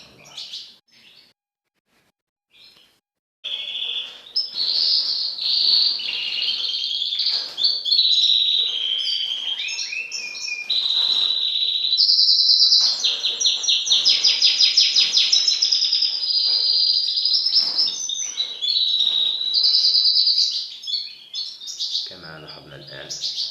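A male canary chasing a female keeps up a long, loud, continuous run of bright chirps and trills close by, after a few seconds of near quiet.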